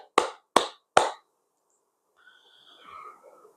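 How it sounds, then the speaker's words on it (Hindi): Three sharp, evenly spaced hand claps ring out close and loud at a congratulatory gathering, followed by a faint murmur of low background noise. "तालियां"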